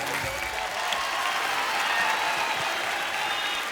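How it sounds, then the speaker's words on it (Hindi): Studio audience applause on a Hindi TV comedy show welcoming a celebrity guest, a continuous dense clapping roar at steady level, fairly soft and somewhat distant, with no talk. "जोरदार तालियां सिम्बा के लिए"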